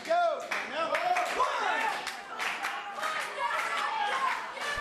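A wrestling crowd at a School of Roc winter showcase claps and cheers for debuting wrestler Dale Patricks, a steady loud wash of applause with children's shouts and crowd voices rising over it throughout.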